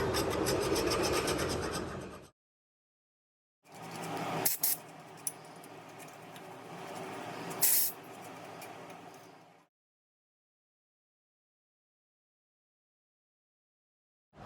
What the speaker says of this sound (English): take a screwdriver and clean out all the grooves from all this corrosion